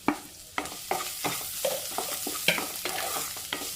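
Ginger, garlic and green chili frying with cumin in a pan for aloo gobi, a close steady sizzle broken by regular spatula scrapes and taps roughly every third of a second.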